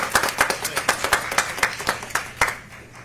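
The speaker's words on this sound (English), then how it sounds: "Let's give him a round of applause, Dr. Sean Joseph." Sparse claps from a small audience at a school district meeting greet a newly named interim superintendent, about a dozen separate hand claps in an uneven rhythm, close and fairly crisp.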